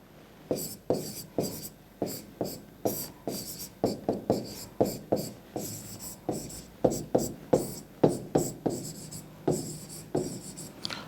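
Pen writing math on paper, a close, crisp run of quick scratchy strokes in short bursts with brief pauses, steady rhythm and no talk.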